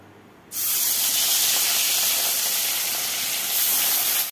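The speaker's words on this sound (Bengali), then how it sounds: "এখানে যে মাছ ভাজা হচ্ছে" Fish coated in turmeric and salt drop into hot oil, bursting into a loud, steady hiss and spatter that holds strong for several seconds and swells again near the end.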